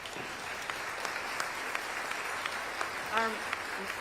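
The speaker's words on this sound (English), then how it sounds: "Let's give him a round of applause." A crowd at a child care announcement event near Rochester gives a round of applause, a steady wash of clapping at moderate distance, with a faint voice briefly cutting through near the end.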